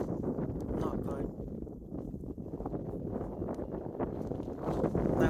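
Wind buffets a microphone outdoors while fishing, gusting rumble and rustle rising and falling in uneven bursts, with someone speaking over it.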